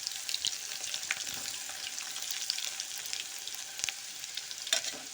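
Sliced onions and cumin seeds sizzle steadily in hot oil in a pan, a continuous bright crackle with scattered pops, fairly close and without voices.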